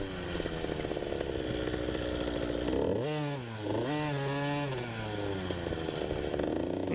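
A TC 50 kids' dirt bike ridden on a short dirt track, its small engine buzzing high and steady, then dropping and revving back up in a sharp swoop midway before settling into a constant drone.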